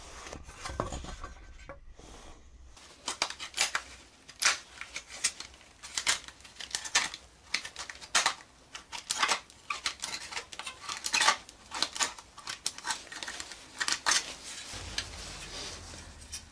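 Sharp metal snips cut the corners of a metal mess tin lid, a Yugoslavian Serbian type, giving a series of bright clipping and scraping clicks in irregular bursts, fairly close and loud, with no talk.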